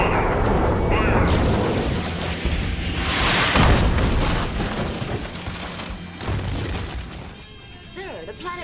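Cartoon weapons firing in a loud, sustained roar of booms and blasts after a countdown, rumbling heavy explosions that swell and fade, with speech mixed in beneath the din.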